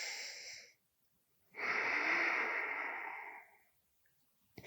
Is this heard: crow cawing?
no